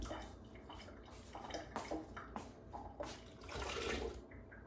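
Water pours from a can into a blender holding canned beans, a soft continuous splashing and trickling stream that swells toward the end, close and fairly quiet.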